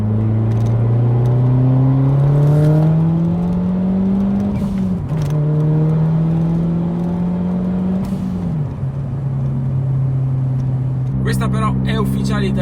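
A Ford Focus RS WRC replica rally car from 2002 runs its engine loudly, holding a steady drone with two rising pulls and brief dips between gear changes, ending with a sharper burst.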